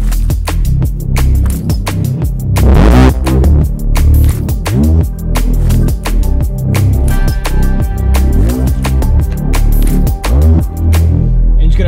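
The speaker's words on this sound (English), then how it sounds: "in Reactor, you can download this little wave shaper that I like to use, and this just adds a little bit more grit" A Razor Reese bass synth pushed through a Reaktor wave shaper for extra grit plays a loud, continuous detuned rumble with throbbing low end and gritty upper buzz, pulsing rhythmically alongside sharp percussive hits throughout.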